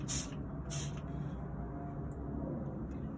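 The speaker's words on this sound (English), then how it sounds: "We will spray brand X first, so we'll give it a little longer to work." Soap scum cleaner sprayed from a trigger bottle gives two short, close hissing bursts at the start, followed by a quieter low background hum.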